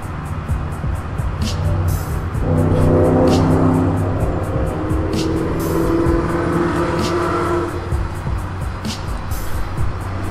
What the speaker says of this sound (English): I apologize if you hear the cars in the background.